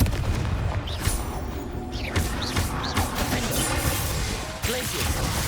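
The Confringo fire spell in Hogwarts Legacy goes off as one of several sharp, bursting blasts among crashing combat impacts, while a voice calls out spell names throughout.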